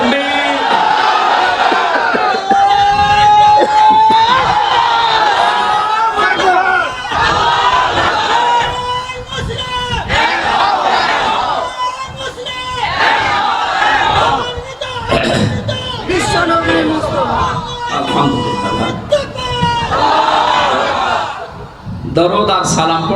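At a Bangla waz sermon, a large crowd roars a takbir response in loud, drawn-out chanted shouts that swell and fade repeatedly, with a preacher's voice leading between them.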